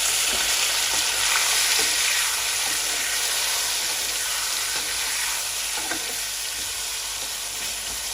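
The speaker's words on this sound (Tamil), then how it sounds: "வதங்குவோம் தக்காளிக்கெல்லாம் வதங்கட்டும்" Tomatoes sauté in a hot pan for a fish curry, giving a loud, continuous close sizzle and frying hiss with faint occasional stirring scrapes.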